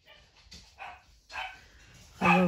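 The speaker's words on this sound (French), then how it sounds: "Alors, vous entendez mon chien." A pet dog barks close by in a few short, sharp bursts, ending in one loud bark, with soft background noise between them.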